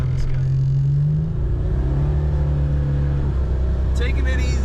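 A 1987 Buick GNX drives under turbo power, a loud, deep engine drone that shifts pitch as it moves along, with a brief squeal near the end.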